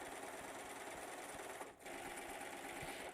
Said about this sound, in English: So I want you to hold on to your pins and just serge, just like this.